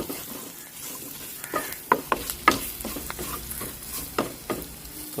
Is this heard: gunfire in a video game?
no